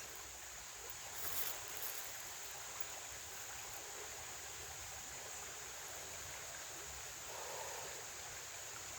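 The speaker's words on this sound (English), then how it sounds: "we view the sacred creek under the sacred trees by the sacred grove" A sacred creek runs beneath trees in a grove, giving a steady, soft wash of flowing water throughout, with faint brief rustles rising now and then over the even stream.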